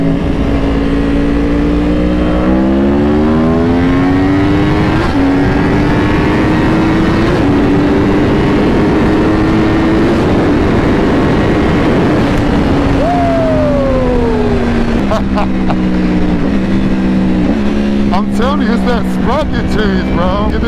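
Yamaha R1 sport bikes accelerating hard in a race, engines screaming and climbing through gears with rising and falling whines, very loud and close, sustained the whole time with wind rush and gear-change dips.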